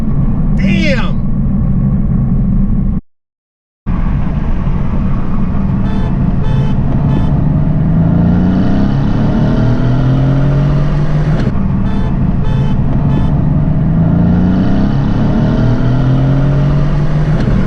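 A Mercedes-AMG C63 S engine rumbles and revs in a steady, loud roar, with rising and falling pitch as the car accelerates, broken by a brief dropout of sound; voices are heard over it.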